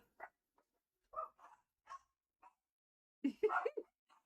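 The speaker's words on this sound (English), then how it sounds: "They have to bark when I'm filming, right?" Three Yorkies barking indoors, a string of short sharp yaps and yips in scattered bursts, with a louder cluster of overlapping barks near the end, fairly close but modest in level.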